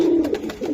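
Close pigeons, fancy breeds kept for sale at a Bengali bird market, coo in a continuous low throaty warble, with a few soft rhythmic pulses and no voices.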